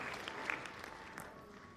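Audience at a formal ceremony applauding for a regional commissioner, a soft, distant patter of clapping sustained throughout, fairly faint.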